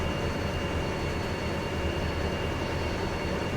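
A train rolls past a junction in the Derail Valley railway game, giving a loud, steady rumble with a constant metallic hum and no pauses or talk.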